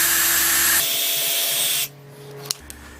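A power drill whines steadily at high speed for nearly two seconds while drilling a hole for a skylight, then cuts off, leaving quiet room noise and a couple of small clicks.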